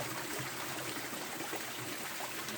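Waterfall behind a rubber plantation, a steady broadband rush of falling water that fills the whole stretch at an even, moderate level with no voices.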